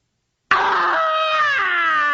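An actor playing Scrooge in a staged audio play of A Christmas Carol lets out a loud, sustained, wavering scream that starts abruptly after silence and holds strong for well over a second.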